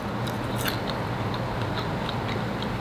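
Close, crunchy chewing of caramelized Brussels sprouts, with small bites and crackles over a steady noisy background and no talking.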